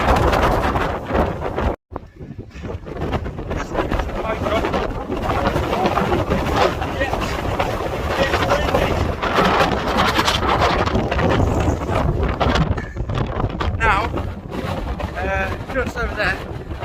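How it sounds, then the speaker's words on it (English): Steady, heavy wind buffeting the microphone on a hilltop, a continuous broadband roar with brief gusts and a momentary drop near the start. "It's a bit windy though"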